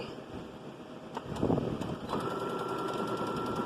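A sewing machine runs steadily while stitching a seam on a cowgirl costume, starting softly and then holding a continuous, moderate hum.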